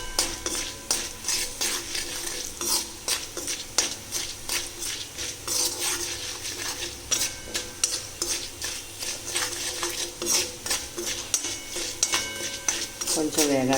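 Cumin and lentils frying in a pan for a coconut-tomato chutney, with rapid crackling spatters and repeated spoon scrapes and clinks against the pan, close, with a voice talking over it.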